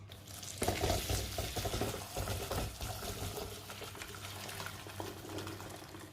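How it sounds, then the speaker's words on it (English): Continuous pouring and splashing of boiled groundnut water through a sieve, a steady wet rush close by with small clinks, no voices. "guys, now we are going to be sieving it."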